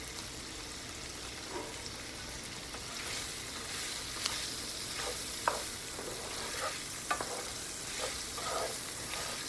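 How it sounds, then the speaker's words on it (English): Smoked sausage sautéing in a skillet, a steady soft sizzle with occasional sharp taps and scrapes as the pieces are stirred and moved around. "Put all the smoked sausage in there and let them saute for like 5 minutes or so"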